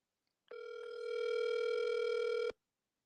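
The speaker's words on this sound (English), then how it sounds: "I got to make another phone call" A landline telephone dial tone sounds alone for about two seconds, steady and loud, then cuts off abruptly, with no dialing beeps following.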